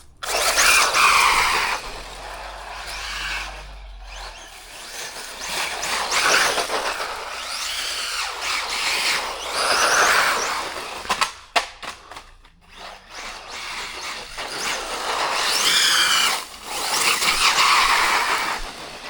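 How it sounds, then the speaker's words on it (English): An HB Toys 1202 RC trophy truck spins its tyres in loud, high-pitched electric whines that surge and fade in repeated bursts, with brief gaps between throttle pulls. "Lighting the tyres up."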